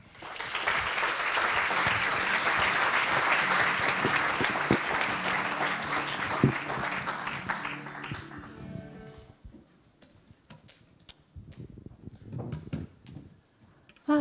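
An audience at a women's engagement event claps to welcome two speakers onto the stage. The applause is dense and sustained for about eight seconds, then thins to a few scattered claps, light taps and footsteps.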